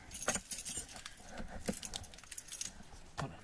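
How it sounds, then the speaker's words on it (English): A large bunch of keys rummaged from a pocket, jangling in irregular bursts with metallic clinks, close but quiet, with no talking. "5 pairs of keys in my pocket. Let me find keys."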